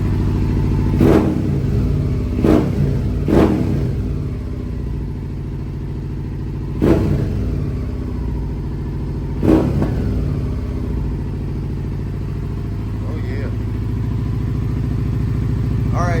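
A motorcycle engine idles loudly and close by with a steady, throbbing rumble throughout, broken by several sharp clanks or blips early on and midway.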